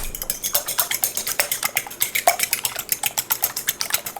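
Keto brownie ingredients being mixed in a bowl by hand, a utensil scraping and clinking against the sides in a fast, even rhythm, close and steady.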